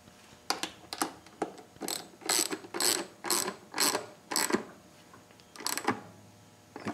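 A ratchet snugs an acorn nut on a 2009 Harley-Davidson Softail Custom, giving close, crisp clicking bursts in a series of short strokes with brief pauses between them.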